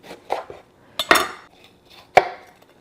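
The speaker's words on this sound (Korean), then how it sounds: "빨강 피망이랑 노랑 피망을 준비했는데요. 요것도 썰어 보도록 하겠습니다." A knife slicing red and yellow bell peppers on a board, with three or four separate crisp cuts and clacks spaced about a second apart, close and quiet between strokes, with no voices.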